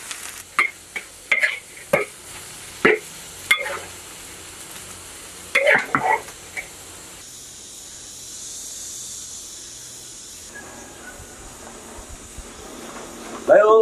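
Preserved mustard greens stir-fried in a wok in a Sichuan home kitchen: a steady background sizzle with a series of sharp scraping and clanking spatula strokes in the first seven seconds, then a quieter, even hiss.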